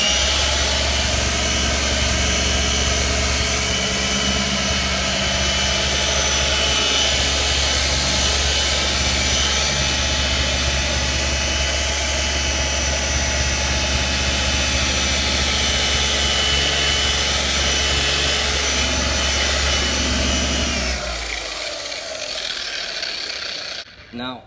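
A machine polisher fitted with a lambswool pad runs across car paint during paint correction. Its loud, steady motor whine drones close by for about twenty seconds and then winds down and stops near the end.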